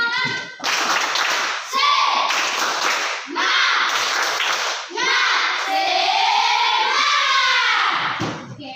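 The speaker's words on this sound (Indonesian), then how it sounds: "Tepuk semangat." A classroom of standing students performs a rhythmic spirit clap, loud bursts of patterned clapping with children's voices chanting and shouting between the claps.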